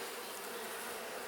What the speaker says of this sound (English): I'm going to let these bees do what they're going to do